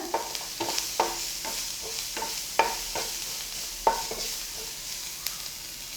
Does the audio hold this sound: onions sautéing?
yes